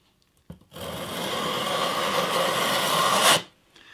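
Steady rasping scrape of 320 grit sandpaper worked lightly across the tops of bass guitar frets, one continuous pass of about three seconds, close and fairly loud, starting and stopping abruptly with no talk.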